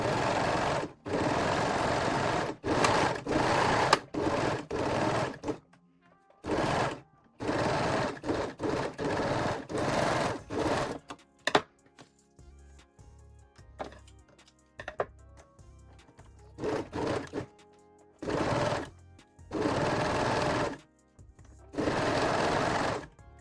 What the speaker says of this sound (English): finish the raw edge with a serger or zigzag stitch.